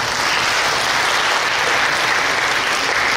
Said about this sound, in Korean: 대신면의 모든 분들께 큰 박수 한번 부탁드리겠습니다